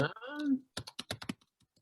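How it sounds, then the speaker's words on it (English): Someone talks briefly, then about half a dozen quick, crisp keystrokes on a computer keyboard tap out close by, and the typing trails off into quieter clicks. "I'm just typing an answer now"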